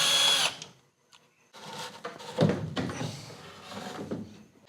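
A power drill backs a screw out of a furnace intake pipe assembly in short, close bursts of whining motor noise separated by brief pauses, with some rattling as the metal housing is handled.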